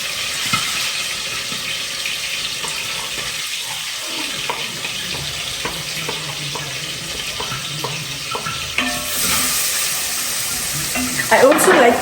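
Chopped garlic goes into hot oil with golden onion in a pan while cooking Jamaican rice, giving a steady close sizzle with scattered clinks and stirring, which swells into louder hissing near the end.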